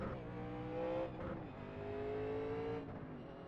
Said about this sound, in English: gas pedal.